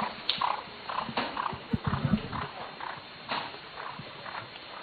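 Racehorses' hooves clatter in an uneven rhythm during a race, mid-distance and fairly soft, mixed with crowd or commentary noise.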